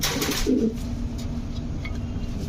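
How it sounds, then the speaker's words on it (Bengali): A large pigeon gives a short, soft cooing call near the start, close by, after which only quiet background hum remains. "বড় তো অনেক বড় সাইজের কবুতর এটা"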